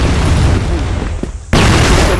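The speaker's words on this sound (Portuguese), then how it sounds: "Flash bomb!" A flash bomb goes off in the CrossFire video game as a sudden, loud burst of noise over steady in-game background sound.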